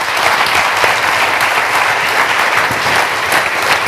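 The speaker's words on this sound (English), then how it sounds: "let's give another round of applause for Tegan because she did a great job" A loud, full round of applause from an audience for speaker Tegan at a drug-awareness presentation, with a steady dense wash of many hands clapping throughout and no break.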